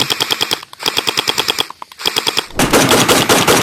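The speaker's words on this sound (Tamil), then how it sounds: "இங்கேருந்து நம்ம ஃபயர் பண்ணால் கூட அங்கே பாருங்கள் எவ்வளோ தூரம் போகுது பாருங்க" A toy pistol blaster fires small balls in rapid bursts of sharp, clacking shots, three quick volleys separated by short gaps, then a steadier noisy stretch at the end.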